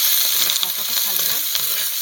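Ground spice masala with cumin and coriander powder sautéing in a pan while cooking banana flower (mocha), a steady close hissing sizzle with faint soft scraping of stirring.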